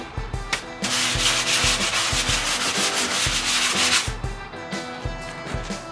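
A drywall patch being sanded by hand, loud rhythmic rasping strokes, steady back-and-forth scrubbing over several seconds with brief pauses.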